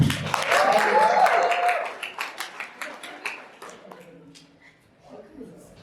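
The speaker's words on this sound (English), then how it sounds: "Ladies and gentlemen, give a round of applause." Audience at a women-in-stokvels event gives a round of applause, a warm, loud wash of clapping under a talking voice that breaks into separate claps and fades out within a few seconds.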